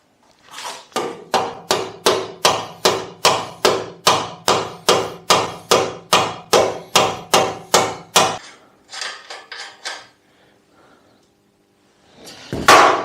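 A rubber hammer taps a Lambretta TV175 scooter engine into its frame: about twenty steady, evenly spaced dull knocks, close and loud, then a few softer scattered taps and a final thump.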